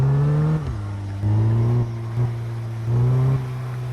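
A video game car's engine drones steadily, with the pitch rising and falling as it revs in short bursts, loud and close with no talk.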